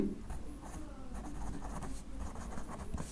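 Chalk or marker scratching across a classroom board during a Class 10 maths lesson, a continuous run of short scraping strokes heard close and alone, with no talking.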